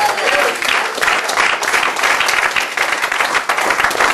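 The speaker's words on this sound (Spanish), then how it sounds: "Alguien dele gloria a Dios con sus palmas." Members of a church congregation clap their hands loudly and continuously, a thick wash of claps close by with no voices over it.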